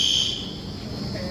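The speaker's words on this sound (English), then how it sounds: "The alarms are gonna go off." Fire alarm first-stage tone sounding during a training simulation, a single steady electronic beep that rings briefly at the start before trailing into a faint background hum.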